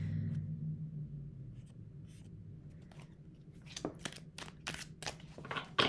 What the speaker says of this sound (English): Needed an extra shuffle there.